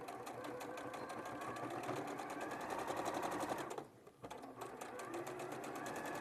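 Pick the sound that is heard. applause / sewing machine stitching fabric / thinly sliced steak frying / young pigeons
sewing machine stitching fabric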